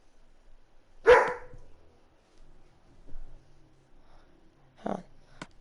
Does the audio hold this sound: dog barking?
yes